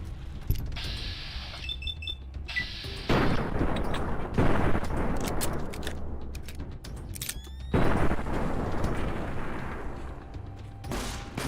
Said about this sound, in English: Laser rifles.